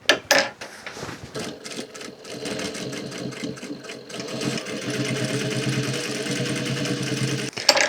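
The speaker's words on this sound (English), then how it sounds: "when sewing down these belt loops, you want to do a really sort of close seam allowance" Short bursts of clattering needle strokes open, then a sewing machine runs steadily with a close whirring rhythm while sewing belt loops down onto a pair of dungarees with a narrow seam allowance, ending in a sharp stop.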